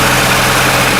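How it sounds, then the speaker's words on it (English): A Porsche Macan engine idles with a steady, low, even drone that holds constant and loud throughout the brief moment, with no other sounds. "you can't barely hear the Porsche Macan when it's idling"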